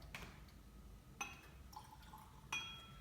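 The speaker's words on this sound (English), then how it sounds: "So just going to pour myself a little dram here." Glengoyne 21 year old whisky is poured into a glass in a small dram, with a liquid trickle and several bright glassy clinks up close in a quiet room.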